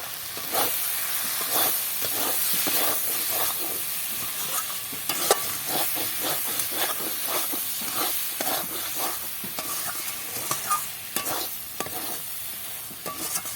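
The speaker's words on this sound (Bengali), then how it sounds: "আর বেশি ভাজা ভাজা করবো না এটা ভাজা ভাজা করে নেওয়া হয়ে গেছে" Loti posto cooking with salt and turmeric in a pan, frying with a steady close sizzle while a utensil scrapes and stirs in repeated quick strokes, the noise carrying on alone without talk.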